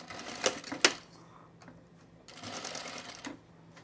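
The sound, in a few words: sewing machine stitching next to fabric gathers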